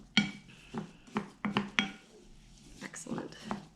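Birdseed ornament mixture stirred in a bowl, a spoon scraping and clinking against the sides in irregular bursts, close and moderately loud, with a voice speaking over it.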